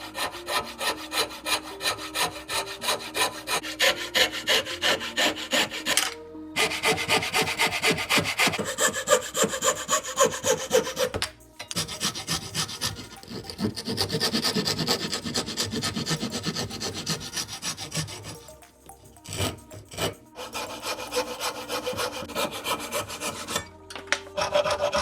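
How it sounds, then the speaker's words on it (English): A coping saw cuts through a wooden tree fork in steady back-and-forth rasping strokes, close and loud, with a few brief pauses between bursts of sawing and no talk. "instead I will use my coping saw"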